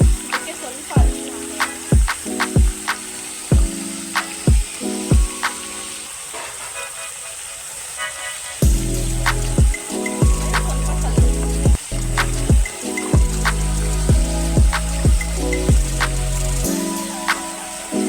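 Chicken for Mandya-style chilli chicken fries in a pan with turmeric, a steady sizzle running beneath repeated sharp knocks and scrapes of a utensil against the pan, close and fairly loud.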